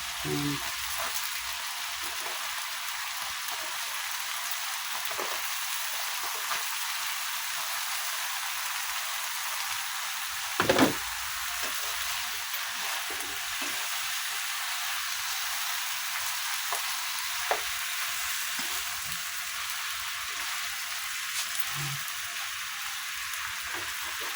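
String beans, okra and eggplant frying in a pan for pinakbet adobo, giving a steady close sizzle throughout with a few louder pops and clatters of cookware.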